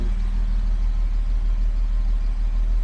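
A classic car engine idling smoothly on old gasoline, running on all cylinders, a steady deep rumble with an even, fast pulse, heard close from behind the car, with no voices.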